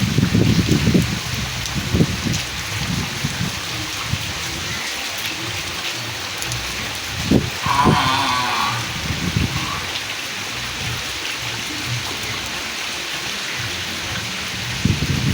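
Steady heavy storm rain pours down throughout, a dense broadband hiss with a few low rumbling thumps, no voices.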